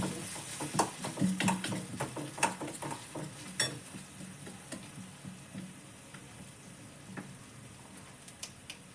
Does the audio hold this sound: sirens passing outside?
no